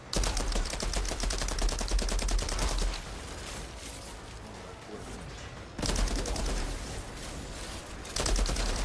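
Submachine gun fire in the Outriders video game, with long sustained bursts of rapid automatic shots that stop briefly mid-way and then resume, loud and close, with no talking over it.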